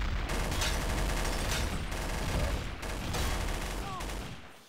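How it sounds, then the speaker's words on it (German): Sustained automatic gunfire in Garry's Mod, Trouble in Terrorist Town mode, rapid and loud, dense rattling bursts filling nearly the whole stretch before tapering off at the end, with no speech over it. "Ich schieße ihn ab."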